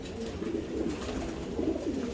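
Racing pigeons coo in a continuous, low, throaty murmur close by, the soft rolling calls overlapping without pause.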